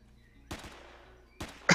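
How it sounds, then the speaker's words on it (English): Two short bursts of weapon fire in the space-survival game Empyrion Galactic Survival, sharp cracks about a second apart over a quiet background, the second burst louder and followed by a bright impact. "Well, yeah, we're shooting at it."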